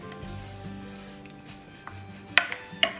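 Namkeen mathri dough is rolled out with soft, quiet rubbing strokes, followed by a couple of sharper knocks near the end, with no speech.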